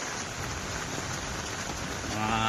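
Steady rain pours down on a campsite in a dense, constant hiss, growing slightly louder near the end, with no voices.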